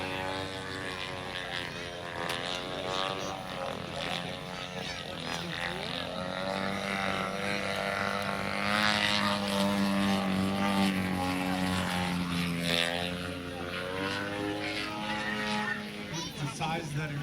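A propeller airplane drones steadily overhead at a Louisville, Kentucky airshow, its engine pitch wavering as it climbs, with voices talking and crowd noise throughout.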